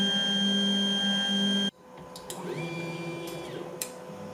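3D printer stepper motors on TMC2130 drivers produce a steady tonal whine that abruptly cuts off, followed by a quieter, shifting hum and faint motor tones with a few short clicks.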